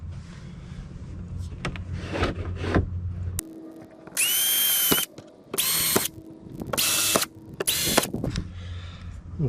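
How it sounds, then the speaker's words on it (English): A power drill bores four holes for drywall anchors in a small job, giving several short, loud whirring bursts with brief pauses between them and softer workshop handling noise around them. "So I'm going to drill 4 holes here."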